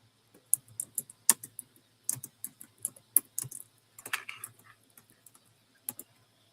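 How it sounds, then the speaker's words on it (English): Computer keyboard typing during a live vintage costume jewelry sale, irregular bursts of crisp key clicks with short pauses, close and moderately loud, no talking. "I am typing in sold."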